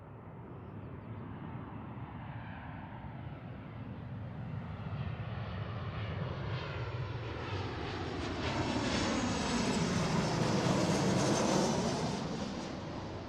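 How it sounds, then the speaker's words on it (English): An Alaska Airlines Boeing 737-700 arriving from Anchorage roars in from a distance, its jet engine rumble and whine building steadily louder as it passes, then beginning to ease off. "what's coming in here is an Alaska flight from Anchorage. This is a 737-700, a little shorty."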